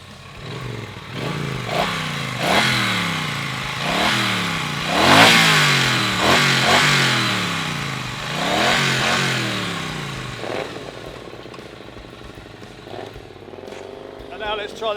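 A Triumph Street Cup motorcycle engine revved repeatedly, a series of sharp throttle blips rising and falling close by, then settling into a lower idle rumble, with a voice speaking over parts of it.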